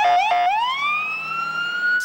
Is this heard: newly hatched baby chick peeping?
no